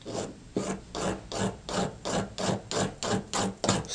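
A small magnesium fire-starter block is scraped to shave off filings, giving a steady series of about ten close, rough rasping strokes in an even rhythm with no talking.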